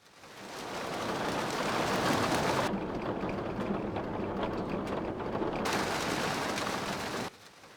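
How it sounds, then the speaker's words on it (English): Steady rain in an anime scene hisses loudly and continuously, briefly sounding duller and muffled in the middle before returning to a full downpour, then cutting off abruptly near the end. "In this raining scene,"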